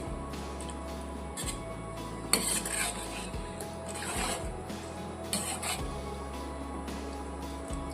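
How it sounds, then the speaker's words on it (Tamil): A spoon scrapes and knocks around inside a metal pot as fish curry is stirred, with a low hum underneath and occasional sharper clinks. "தண்ணி சேர்த்து நல்லா கலந்து விட்டுருவோம்"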